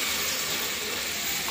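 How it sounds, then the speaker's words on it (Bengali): Hot water hitting curry of potato and cauliflower in a hot wok makes a dense, even hiss of steam and bubbling that holds steady and close throughout. "এখন দিয়ে দেব গরম জল করে নিয়েছি।"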